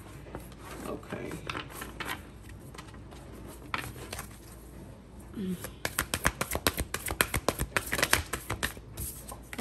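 A deck of tarot or oracle cards being shuffled by hand close up, starting as soft rubbing and then, over the second half, turning into rapid repeated riffling snaps, while a person talks quietly alongside.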